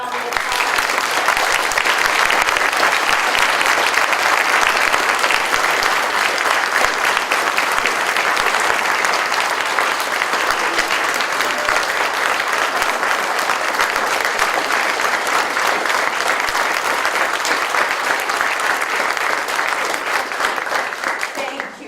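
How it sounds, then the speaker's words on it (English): An audience applauding Senator Susan Collins: a dense, steady wash of many hands clapping, loud and sustained for over twenty seconds before tapering at the end. "Let us all give Senator Collins another round of applause"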